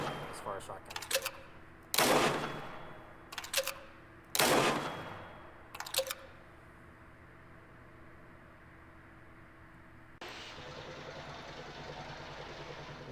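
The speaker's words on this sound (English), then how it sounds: "Just a single shotgun round" Shotgun blasts in the Angels Fall First video game ring out as several separated, sharp bursts with a decaying tail, fired slowly one at a time, ending in a steady hiss.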